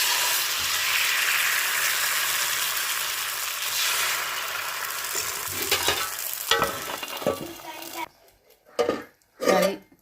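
Dosa batter sizzles steadily on a hot pan in a home kitchen, a continuous loud hiss that later gives way to utensil scraping and a few brief clatters near the end.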